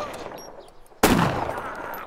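Gunfire in the video game DayZ: a single sudden, loud shot bursts out midway and rings on with a long, broad tail, after a second of quiet in-game ambience.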